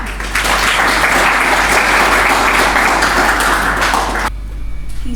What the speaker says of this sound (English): give her speech with a loud round of applause